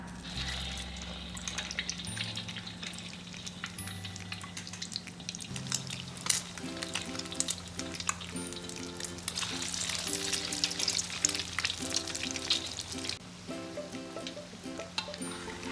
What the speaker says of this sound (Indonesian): Celupkan perkedel kentang ke kocokan telur, lalu goreng hingga kuning kecoklatan.